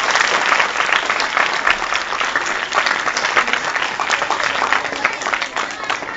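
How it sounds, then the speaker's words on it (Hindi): Loud, dense applause fills a school hall during a Teacher's Day celebration at an Urdu high school in Varangaon, a crowd clapping continuously for several seconds with a faint voice beneath. "ताली तो भेजना चाहिएगा।"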